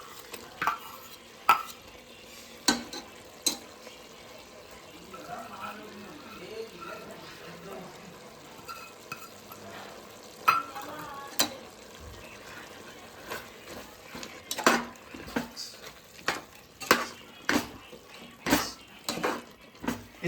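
Curry paste for chicken biryani being stirred in a pot, with irregular scraping and clinking spoon strokes against the metal, growing busier toward the end, under a faint background hiss.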